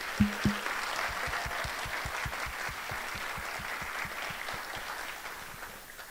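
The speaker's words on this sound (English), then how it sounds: "Round of applause." Applause from a theater audience after a student club's play, honoring the club's seniors: steady, dense clapping that holds level for several seconds and then begins to fade, with a couple of low thumps at the start.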